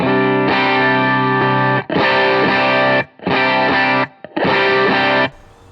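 A distorted electric guitar plays four sustained chords separated by brief gaps, loud and saturated with a bright, boosted top end.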